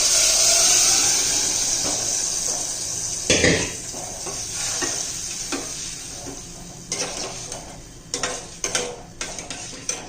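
Cooked dal tipped into a hot pan for dal tadka with green chillies, sizzling and frying up close, with a spoon stirring and scraping against the pan in short clatters.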